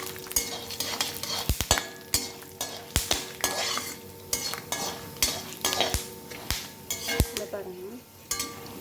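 Chana dal and peanuts fry together in hot oil for an ennai kathirikai dish. A steady close sizzle runs under repeated sharp clinks and scrapes of a metal spoon stirring against the pan.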